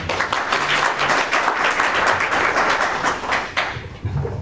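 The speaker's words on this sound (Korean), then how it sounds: "이어서 한국정당학회 김용복 회장님의 인사말을 박수를 청해 듣도록 하겠습니다" An audience at a Korean academic conference of a political party studies association applauds a speaker being introduced, about four seconds of lively crowd clapping that thins out and stops near the end.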